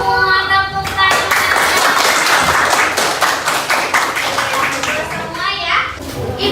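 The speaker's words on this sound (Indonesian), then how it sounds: "Tepuk tangan." Schoolchildren in a classroom clap together after getting quiz answers right, a loud burst of rapid clapping mixed with excited young voices and chatter, close by throughout.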